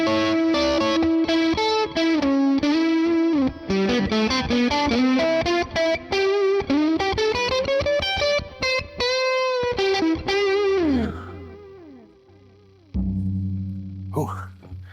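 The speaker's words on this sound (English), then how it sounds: "I'll try another default setting on one of their different amp configurations." Electric guitar on the middle pickup played through a Morgan PR12 amp model, a run of distorted chords and single notes with chorus-like shimmer, loud and continuous, then a pause and a final low strum that rings out.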